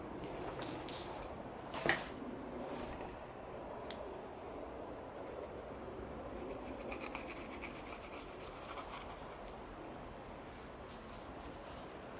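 Soft, steady scratchy rubbing of a pastel pencil across paper, continuous and close, with a brief tap partway through.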